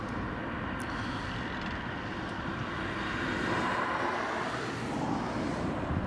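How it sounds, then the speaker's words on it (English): A United Boeing 777 airliner passing overhead near an airport, a broad steady jet roar that swells slightly toward the end, distant and even, with no talk. "think we've got a United 777 just going overhead as well."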